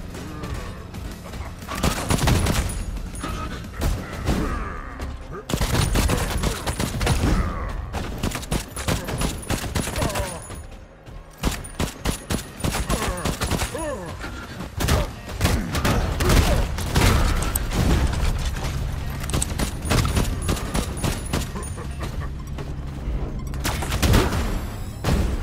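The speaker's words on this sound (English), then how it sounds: "Firing at me from over here." Rapid bursts of gunfire in the Kiborg Arena video game, dense fusillades and booming shots coming in loud clusters with brief gaps, continuing for most of the stretch.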